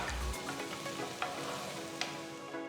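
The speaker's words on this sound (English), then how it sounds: "Pour about 2 tablespoons of oil. Add 1 tablespoon of finely chopped garlic." Finely chopped garlic frying in about two tablespoons of oil in a kadai, a faint, steady sizzle with a few light stirring ticks, alone and quiet.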